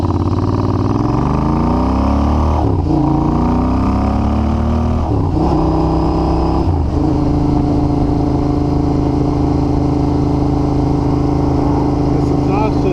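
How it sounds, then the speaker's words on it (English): A 2021 Royal Enfield Continental GT motorcycle with Emgo slip-on exhausts pulls hard through several gears, its steady engine drone climbing and then dropping back at each of three upshifts before settling into a constant cruise. "This exhaust system is a heck of a lot more livable than that 2-into-1 race pipe that we did last time"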